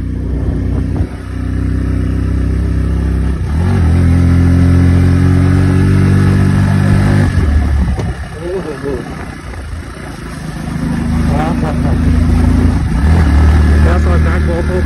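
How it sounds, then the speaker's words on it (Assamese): A motorcycle engine runs steadily nearby on a snowy, icy road near Tawang, rising and falling as it revs, with a pause before it picks up again. "বাইক চলাব"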